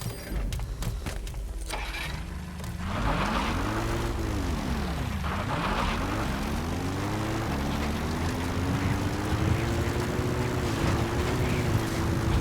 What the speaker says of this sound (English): Please select a support helicopter